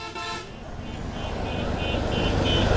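Fast vehicles on a highway rush past; a car horn toots briefly at the start, then engine and tire roar swells steadily louder as traffic approaches close by.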